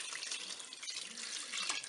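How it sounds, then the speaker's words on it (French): Water pours steadily into a cooking pot holding tinned peeled tomatoes and white wine for a tuna spaghetti dish in a Cookeo cooker, a close, continuous splashing gush. "je vais rajouter de l'eau."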